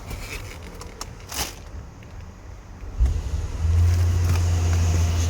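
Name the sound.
Mercedes-Benz GLS Maybach 600 engine starting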